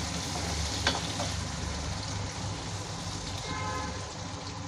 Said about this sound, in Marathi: आता आपलं तेल तापले बघा, आता आपण थोडंसं जिरं टाकू आणि बारीक कांदा कापले बघा।